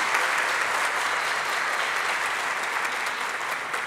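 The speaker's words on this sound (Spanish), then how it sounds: "con un fuerte aplauso" Loud, dense applause from a large audience at a peace-agenda launch event before a concert, a steady wash of many hands clapping throughout with no voices on top.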